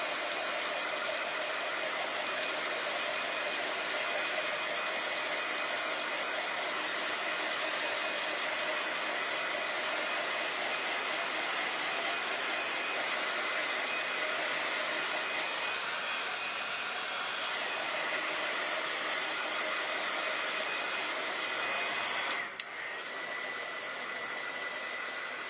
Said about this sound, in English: I'm trying to be careful with this heat tool because it'll melt this plastic